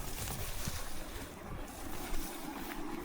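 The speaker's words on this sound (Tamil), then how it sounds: "ஓட சத்தம் வருது." A stream in the Madagascar countryside flows with a constant, broad rush of water, fairly loud and unbroken, with no voices.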